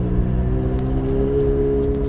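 McLaren 720S sports car with a stage two tune accelerating during a road test in Southern California, a loud, steady engine drone with a rising tone heard from inside, alone without talk.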